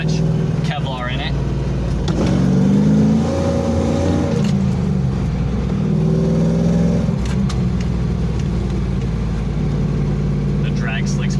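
1999 Pontiac Trans Am with a race clutch on drag slicks accelerating on fresh pavement: a loud, deep engine roar rising through revs in two strong pulls, with brief voices nearby.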